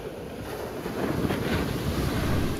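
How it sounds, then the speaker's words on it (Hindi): Sea waves surge against the shore on the Kerala coast, a loud rolling wash that swells and builds through the moment, with heavy wind rumble buffeting the microphone and no voices. "समंदर की लहरें जोर जोर से किनारे से टकरा रही थी।"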